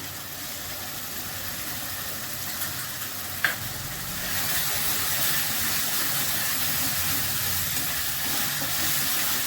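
Spiced masala with beaten yogurt sautés in a pan, giving a steady broadband sizzle that grows louder partway through. A single faint clink of a utensil sounds early on.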